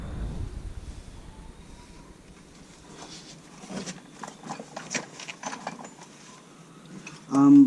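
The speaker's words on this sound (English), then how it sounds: "now my next move is I'm going to remove the shock out of the way" Metal clanks and ratcheting clicks from removing the front shock absorber on a 2001 Chevy S10 pickup's suspension, a steady run of close mechanical taps and scrapes ending in a louder burst.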